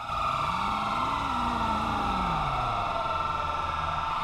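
A video game police siren wails with a rising and falling tone over steady engine rumble and broadband traffic noise, continuous and fairly loud throughout.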